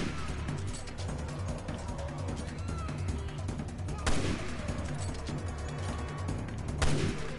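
Gunfire in the video game Resident Evil Revelations 2: two loud gunshot blasts stand out over a dense, busy game soundscape of rumble and mechanical noise.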